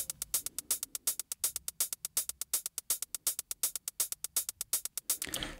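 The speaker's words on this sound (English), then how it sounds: "just to create groove within the hi-hat track" Hi-hat pattern sequenced on an Elektron Digitakt, a steady run of crisp, closely spaced ticks with slightly varied decay giving a swung groove, played alone and fairly loud.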